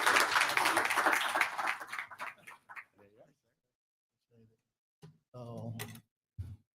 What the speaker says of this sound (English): So if you guys can give a big round of applause for Brad, we'll get this bad boy started.